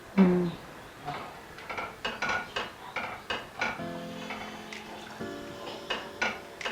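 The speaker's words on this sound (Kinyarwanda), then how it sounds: "Ese ufite amasafuriya y'amabati nk'aka ngaka." A metal saucepan being handled while making porridge gives a series of close, sharp clanks and scrapes at an irregular pace, with a faint ringing metallic tone between knocks and no voices.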